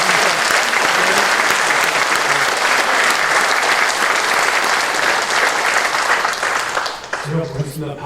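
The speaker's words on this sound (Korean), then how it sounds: "우리 강 목사님 위해서 파이팅한 박수 한번 부탁드립니다" Church congregation applauds loudly for their pastor at a relocation service, a dense, steady wash of clapping that fades near the end as voices come in.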